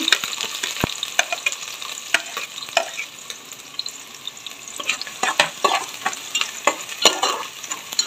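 Finely chopped onion, garlic and green chilli frying in hot oil for veg fried rice, a lively close sizzle with crackling pops and repeated scraping stir strokes across the pan.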